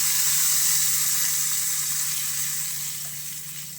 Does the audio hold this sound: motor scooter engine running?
no